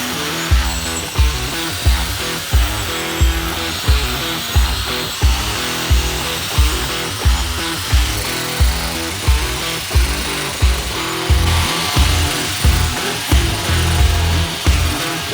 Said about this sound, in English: We just started using the angle grinder.